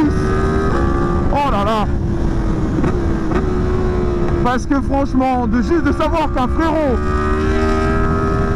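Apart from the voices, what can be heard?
Yamaha MT-10 motorcycle engine revving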